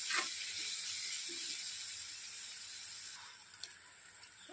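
Egg bhaji mixture with coriander powder, chilli, turmeric and salt sautés in a pan, giving a soft, steady sizzle and hiss with a few faint stirring taps.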